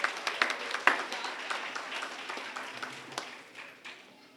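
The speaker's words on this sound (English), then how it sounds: "Let's give another big round of applause for all of our terrific kids and Kids with Character." Audience applause at an elementary school awards ceremony honoring terrific kids and Kids with Character, dense hand clapping from a room full of people, loud at first and gradually tapering off.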